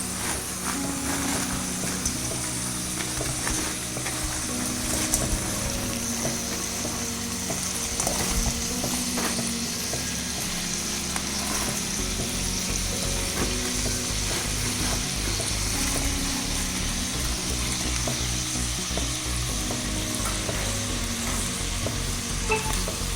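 Fried chicken 65 pieces are stirred in a hot sizzling pan, with a steady frying hiss and repeated scraping of the spoon against the pan running throughout, close and fairly loud, with no talking.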